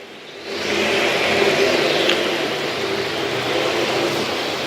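Race cars roaring steadily around an Alabama state racing track, a continuous dense engine drone with a brief rise as cars pass, loud and sustained without talk.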